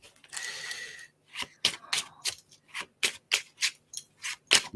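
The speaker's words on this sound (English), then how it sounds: "Let me shuffle these cards one more time." A deck of playing cards being shuffled up close: a short rushing riffle, then a quick, even run of crisp little snaps, all fairly quiet.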